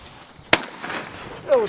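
A single sharp shotgun blast fires at pigeons over an outdoor field. A brief rumbling tail follows, and a voice cuts in afterward.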